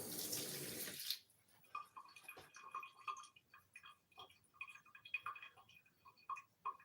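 Basil leaves rinsed under a running kitchen tap for a lasagne garnish: a loud gush of water for about a second, then the tap stops and light ticking, dripping and handling sounds follow.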